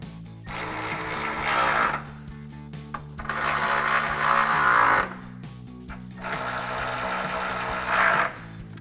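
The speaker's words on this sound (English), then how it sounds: "Grab our ratchet with our 10mm socket and tighten them down." A ratchet with a 10mm socket tightens headlight bolts on a 2005-2009 Mustang, giving three bursts of rapid clicking separated by short pauses, close and clear.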